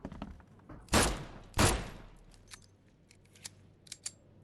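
Two sharp, loud gunshots ring out close together in The Sinking City, each with a short reverberant tail, followed by a few fainter clicks and knocks.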